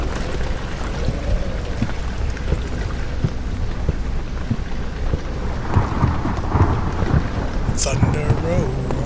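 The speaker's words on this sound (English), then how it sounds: "Thunder" Thunder and heavy rain in the horror game Amnesia: The Dark Descent: deep rumbling under a constant wash of rainfall, with a brief sharper burst near the end.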